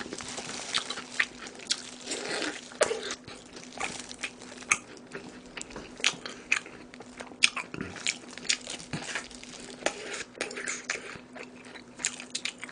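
Fried chicken being eaten close to the microphone at a Korean mukbang, with repeated crunchy bites and wet chewing in an uneven rhythm over a constant faint hum, and no talking.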